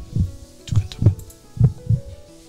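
Heart pounding in a steady double-thump rhythm, five or six deep, close beats over a low hum, standing alone with no talk.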